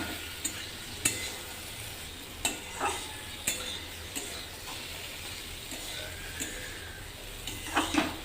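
Spatula stirring a fish and brinjal curry in a pan, a few scraping strokes spaced out over a soft background frying hiss, moderately faint.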